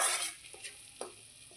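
Spices, onion, ginger, garlic and chili hit hot oil over a high gas flame, a loud burst of sizzling that quickly settles into a quieter fry, with a few soft stirring knocks close by.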